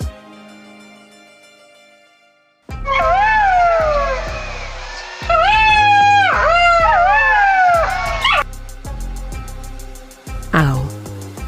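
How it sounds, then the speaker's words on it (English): A fox gives a series of high, wavering yelping calls, loud and close, in several bursts with short pauses, set over a music backing. "Fox."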